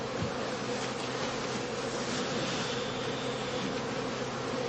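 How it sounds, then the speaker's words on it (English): Honeybees are driven out of a heather skep as it is bounced rhythmically, a dense, continuous buzzing swarm heard close up and steady throughout, with no voices. "The skeps are bounced rhythmically in order to drive all the bees into the empty skep."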